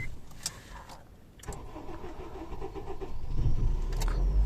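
Car engine cranking and starting on a cold night, a short starter whir giving way to a steady, moderately loud idle rumble that builds toward the end, with no talk over it.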